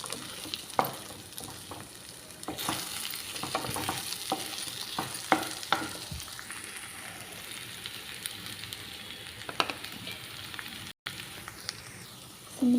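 Sliced eggplant (vankaya) fries softly in a pan, with steady close sizzling broken by repeated scraping and clinking stirs from a spatula and a brief gap near the end.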